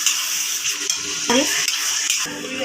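Taro leaves with hilsa fish stirred in a pan crackle and sizzle up close, with a few scraping spoon strokes and clinks against the pan over a steady frying hiss.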